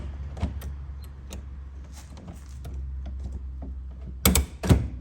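A race shifter in a Ford Ranger, one with a Z-gate that is not clicking into place, clunks and clicks as it is pushed and pulled through the gears. The knocks are close and scattered, and two sharper, louder clunks land near the end.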